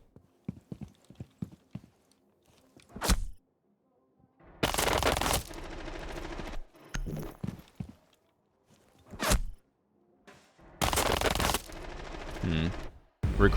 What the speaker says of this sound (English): He's struggling to control the SMG-12